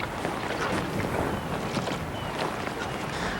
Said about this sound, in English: With all that wind and freezing cold